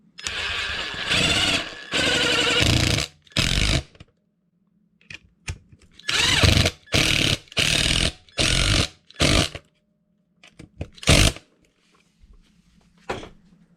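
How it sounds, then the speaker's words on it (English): A power drill drives an M5 stainless bolt into a plastic M4 hole on an Arrma Kraton 8S EXB wing mount, in a string of short, loud, close bursts with brief pauses between. "drill it in the rest of the way"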